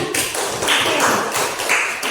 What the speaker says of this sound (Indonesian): berikan tepuk tangan sebentar